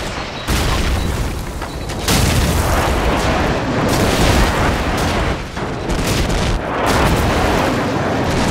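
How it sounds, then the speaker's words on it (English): Airstrike explosions in Call of Duty 4 multiplayer boom loudly and repeatedly, heavy blasts and gunfire layered into a dense continuous roar with several sharp hits. "Friendly airstrike on the way."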